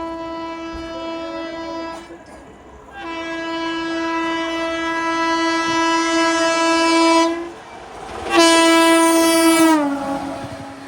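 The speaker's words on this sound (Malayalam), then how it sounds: "ഇവിടെ നിന്നാണ് തമിഴ്നാട് എക്സ്പ്രസ് വരികയാണ്." An express train sounds its horn repeatedly while passing on an Indian rail line, with long, loud, tonal blasts broken by short gaps and a final blast that bends downward, over steady rolling rail noise.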